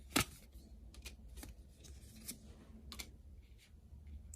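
Tarot cards being shuffled and drawn from a deck, a quick riffle burst at the start followed by scattered soft card slides and taps, fairly quiet with no voices.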